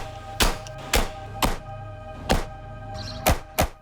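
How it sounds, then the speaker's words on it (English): A firing apparatus shooting encapsulated tree saplings into the ground, six sharp, solid thunks spaced irregularly over a steady low mechanical hum. "a firing apparatus that shoots encapsulated tree saplings into the ground"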